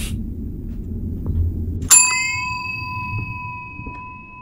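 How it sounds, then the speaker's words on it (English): A single bright bell rings once in a dark horror video game, a sharp metallic ding with a long shimmering ring-out over a low, murky ambient rumble. "Okay, I rung the bell again."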